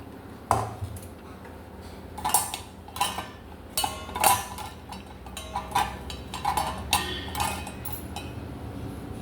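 A pot of homemade healthy soup being strained into another vessel, with irregular metallic clinks, taps and scrapes of utensils against the pot, fairly close and moderately loud, with no talk.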